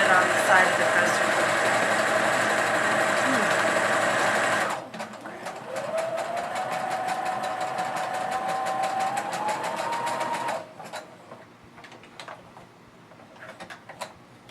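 A sewing machine stitches a cross body bag in a fast, even mechanical run close by. It pauses briefly, then resumes at a slightly different pitch before stopping, leaving a few scattered clicks.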